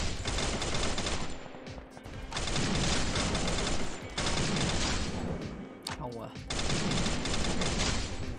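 FAMAS rifle fire in the video game Free Fire, rapid bursts of automatic shots in several long strings separated by brief pauses, fairly quiet overall, with a voice talking at times.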